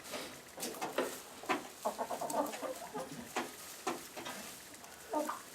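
Plymouth Rock hens, one speckled, cluck and murmur close by in a backyard flock, a steady run of short overlapping clucks with a few louder bursts.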